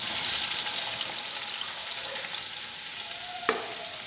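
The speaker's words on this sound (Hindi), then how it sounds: "तेल मैंने चूल्हा में रख दिया है गर्म होने के लिए। अभी मैं प्याज डाल रही हूँ।" Sliced onion goes into hot oil in a pan, giving a steady, close, bright sizzle with a brief clatter near the end and no voices.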